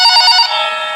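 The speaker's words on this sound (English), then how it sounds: "the phone on the counter rang" A telephone rings with a bright, steady electronic trill, loud and close, the ring sustained for about a second with no voices.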